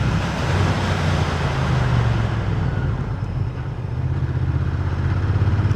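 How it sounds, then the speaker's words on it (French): A Royal Enfield Interceptor 650 motorcycle engine drones steadily at close range, its low rumble rising slightly as it accelerates through a curve, with constant road and wind noise throughout. "On accélère un peu, j'ai toujours personne derrière, je passe la courbe"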